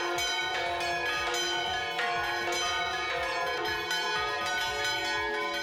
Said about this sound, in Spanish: ese toque de campanas de forma manual